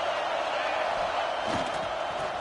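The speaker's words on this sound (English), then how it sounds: "This crowd bringing the energy and noise early." A football game crowd roars in a steady, loud, continuous wash of cheering and noise, with a brief swell partway through.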